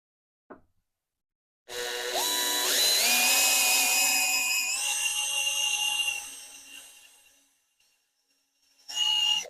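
A power drill drives screws into wooden easel pieces, its motor whining up in pitch and holding steady for about four seconds before winding down, with a brief second burst at the end; loud and close, no talking.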